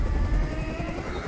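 Steady whirring drone of a helicopter in the game Detroit: Become Human, a continuous low rumble with rhythmic rotor pulsing, moderately loud.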